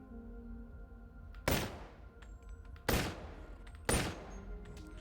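Three loud, sharp gunshots about a second and a half apart, each with a short decaying tail, fired in the VR game Boneworks over a low, steady hum, with no talking.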